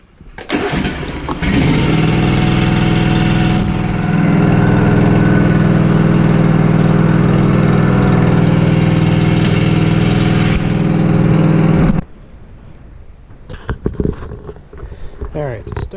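A Kubota GR2120 lawn tractor engine runs loud and steady for about twelve seconds, a sustained low drone close by, then cuts off, leaving quieter scattered handling sounds and brief noises.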